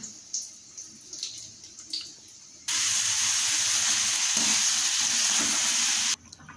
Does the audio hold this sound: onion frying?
yes